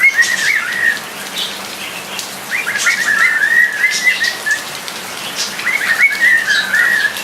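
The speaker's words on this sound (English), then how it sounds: "there's the chatty cockatiel" A pet cockatiel calls repeatedly in bright, whistled chirps in a garden during rain, the bursts coming in three clusters over steady rain hiss, fairly close, with no talking.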